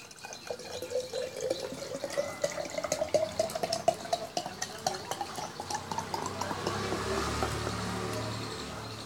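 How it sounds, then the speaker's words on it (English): Concentrated acid being poured into a jar, a continuous trickling, splashing liquid stream with dripping sounds that gradually settles into a softer, steady filling rush. "Now pour the acid in this."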